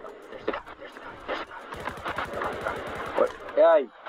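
Rapid automatic gunfire in the Roblox Jailbreak video game, a fast burst of close, loud shots lasting a couple of seconds, with a player talking around it.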